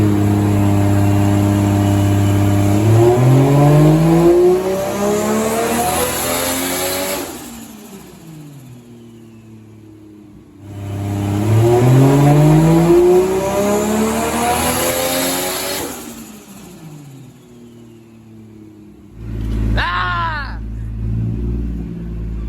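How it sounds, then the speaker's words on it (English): A Toyota Soarer JZZ30 with a big turbo engine revs hard on a dyno, climbing through two long full-throttle pulls that cut off abruptly, then a short blip with turbo whoosh, loud and close. "Dang, a turbo noise is right there."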